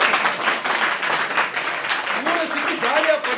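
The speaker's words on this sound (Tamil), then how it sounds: "கைத்தட்டுங்க." An audience claps and applauds at a birthday celebration with students. Bright, dense applause runs throughout, with a voice starting to speak near the end.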